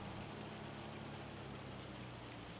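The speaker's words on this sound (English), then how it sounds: "Oh, it's hailing." Hail falling outside makes a dense, steady hiss of countless small impacts, faint and continuous with no distinct individual hits.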